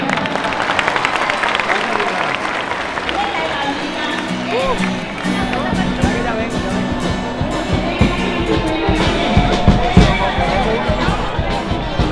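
A studio audience at a television variety show claps in a sustained burst of applause with crowd hubbub, while a host talks over it.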